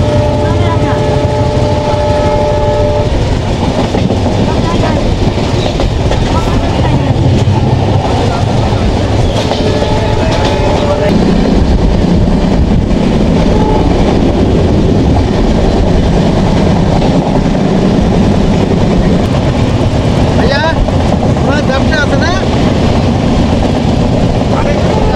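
A train running past Nimtala railway station in Bangladesh, heard from onboard: a loud, continuous rumble and clatter of carriages on the rails, with voices talking over it.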